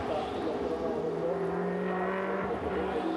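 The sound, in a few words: Coppa Shell race car passing commentary position at Monza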